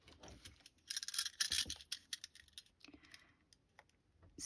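Scissors cutting through glittery, glossy paper card for a scrapbooking card, heard as quiet, crisp snips and clicks in irregular bursts, close up and alone.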